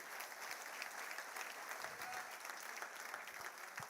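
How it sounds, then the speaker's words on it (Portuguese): Church congregation applauding during a Portuguese-language sermon, a continuous faint patter of many hands clapping at a distance, steady with no clear voices. "Você pode aplaudir ao Senhor por isso?"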